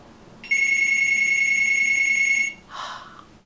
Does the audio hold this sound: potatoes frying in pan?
no